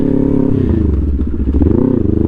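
An Aprilia RS 660 motorcycle being ridden, its engine droning loud and steady throughout with rising and falling pitch as it revs, plus some clatter and rattle over the engine note.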